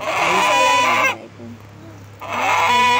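A rooster, about to be slaughtered, clucks in two bursts separated by a short quiet gap, close and fairly loud.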